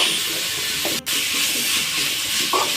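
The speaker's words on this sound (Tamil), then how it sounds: "நல்லா வதங்கணும்." Onions sautéing in hot oil in a pan while being stirred for pasta, a steady loud sizzle and hiss throughout with a couple of brief scraping stirs.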